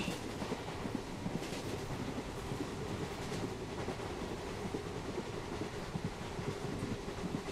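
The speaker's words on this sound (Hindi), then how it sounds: "16317 केप एसपीटी के हिमसागर एक्सप्रेस को हम गाइस ओवरटेक कर रहे हैं" Jabalpur–Rani Kamlapati Janshatabdi Express (12062) overtaking the Himsagar Express (16317) in India: a steady, loud rumble of rolling train wagons with faint rhythmic clatter throughout, no talk.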